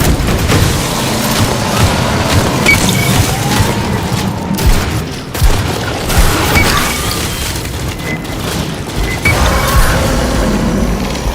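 Booming grenade explosions and crashing debris roll through a loud, continuous combat scene in the Aliens: Fireteam Elite game, with no talk over it.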